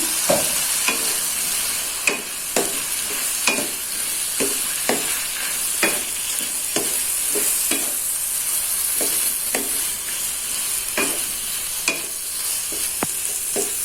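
Chicken liver and gizzard with fried potatoes stirred in a sizzling pan of potato sambal, a spoon scraping in a steady rhythm of sharp clacks over continuous close frying, with no talking.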